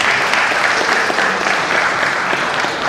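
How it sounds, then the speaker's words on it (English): Audience applause at a law week event of a bar association branch, a loud, dense clapping that fills the room steadily for a few seconds without pause. "So, a round of applause for him."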